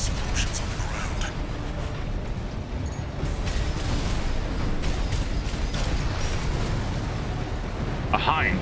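Continuous deep explosive rumble and bursting blasts on the ground in the mech game Armored Core VI, steady and heavy throughout with mechanical clatter and a sharp pop near the end, while someone talks over it.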